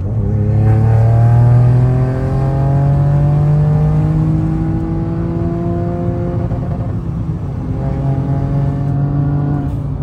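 A small 1-litre car engine revs hard while driving, a loud close drone that climbs in pitch through the gears, with a brief dip between shifts before rising again.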